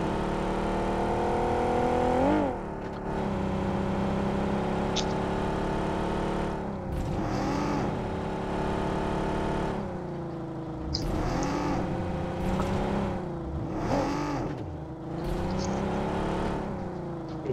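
A tuk tuk's engine in PUBG on the Sanhok map, a steady buzzing motor drone heard close with repeated swelling revs and pitch sweeps, alone without talk.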